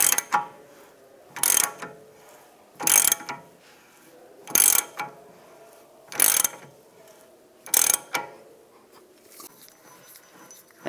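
A bearing press tool ratchets as it is tightened to press the rear wheel hub of a 2004-2010 BMW X3 into its bearing, six loud, sharp clicking bursts at steady intervals with quiet pauses between.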